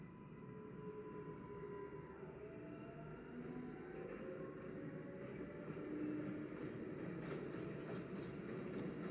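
Inside a New York subway 4 train crossing track switches, a low steady rumble runs throughout with rattling, faint squeals and clicks rising toward the end, moderately quiet and free of speech.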